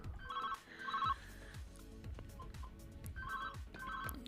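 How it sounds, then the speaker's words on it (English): A mobile phone rings with a repeating electronic ringtone in short melodic bursts, moderately loud over a steady low background. "every time we start these streams, my phone always goes"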